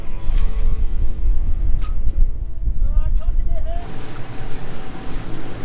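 Strong wind buffets the microphone aboard a sailing boat at sea off Indonesia, gusting loudly over waves and water rush, with faint creaks and a brief squeal from rigging or lines near the end.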